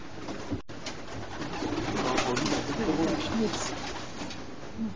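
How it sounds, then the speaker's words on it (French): A pigeon cooing softly amid a noisy background, the low murmuring calls continuing throughout. "Ça, c'est le pigeon"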